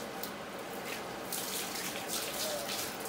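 Water runs steadily from a hose or tap while rinsing a drain bladder used for clearing a clogged sewer line, a continuous hiss and splash at moderate level with slight surges.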